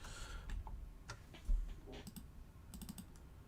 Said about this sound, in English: will hear a lot of keyboard during this stream